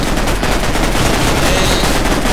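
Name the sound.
fast reload rifle gunfire in Minecraft Mine-Strike video game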